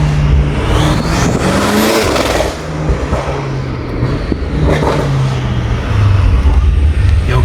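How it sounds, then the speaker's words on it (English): BMW M5 Competition fitted with catless downpipes and front-mount intakes, its engine revving with turbo spool, loud and continuous with rising and falling engine tones throughout, heard from close by. "Now that turbo spool's insane"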